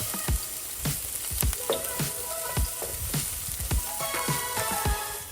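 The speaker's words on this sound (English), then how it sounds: "follow quickly with the garlic and peppers. Cook until the garlic is fragrant" Garlic and peppers frying in oil in a pan, with a steady sizzle broken by sharp clacks and scrapes of stirring at irregular intervals, close and alone without talk.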